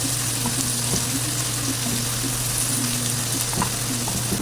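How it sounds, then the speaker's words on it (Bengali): Minced onions fry in a pan for a hotel-style Indian chicken masala, giving a steady, dense sizzle with a few faint stirring scrapes, close and constant, with no voices. "পেঁয়াজগুলোকে একটু ভাজা ভাজা করে নেব"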